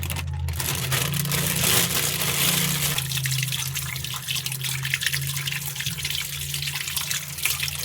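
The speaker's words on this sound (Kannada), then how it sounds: "ಇದನ್ನು ತೊಳೆದ್ಬಿಟ್ಟು ಇವಾಗ ಕ್ಲೀನ್ ಮಾಡ್ಕೋಬೇಕು" Bangude (mackerel) fish being washed under a running tap, with a steady, full stream of water splashing and spattering over the fish and hands, close and continuous.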